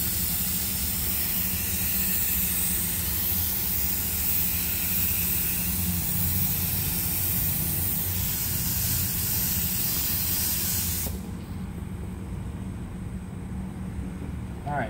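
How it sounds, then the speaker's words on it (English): Activator is sprayed for water transfer printing: a continuous, loud hiss runs for about eleven seconds at close range, then cuts off, leaving a quieter low rumble behind. "now we're going to spray the activator"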